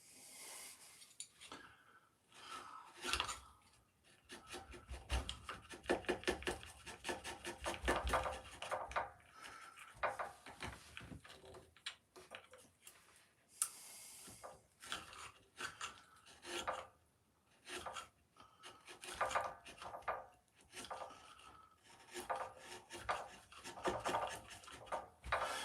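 Flexcut gouges carving wood, a steady run of rasping, scraping cuts in quick irregular strokes, close and fairly quiet with no talk.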